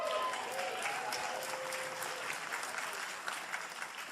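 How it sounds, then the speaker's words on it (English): Sustained applause from a convention audience at a Green Party national convention, a dense, steady wash of clapping filling the whole stretch at moderate loudness with no talk over it. "Well, I'm glad I'm getting applause now."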